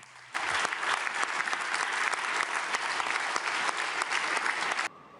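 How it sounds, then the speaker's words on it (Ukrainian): Sustained applause fills a Council of Europe parliamentary assembly chamber, a dense, even wash of clapping that starts abruptly and holds steady for several seconds before cutting off. "А вже наступного дня Російська Федерація під оплески перестала бути членом організації."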